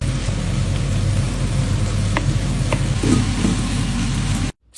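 Onions sizzle in oil and butter in a pan, a steady close frying hiss with a few faint clinks, no voices, ending in a short silence.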